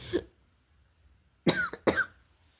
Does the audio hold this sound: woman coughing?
yes